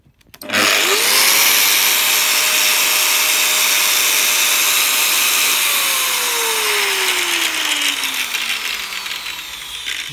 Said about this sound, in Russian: UCHM работает хорошо, без посторонних шумов